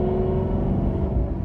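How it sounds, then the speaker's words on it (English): A Maserati GranTurismo MC V8 with aftermarket exhaust accelerating, a loud, close, rising engine drone with a deep rumbling tone over the short burst. "as you can hear, just a little bit of acceleration on this thing"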